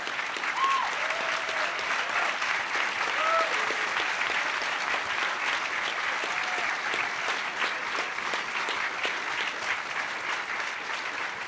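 An audience at the HOPE X hacker conference closing ceremony gives security staff in red shirts a long, steady round of applause, dense and even throughout, with a few faint whoops rising above the clapping.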